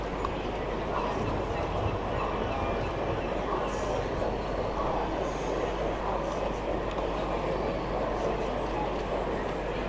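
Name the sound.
model railway locomotive running on exhibition layout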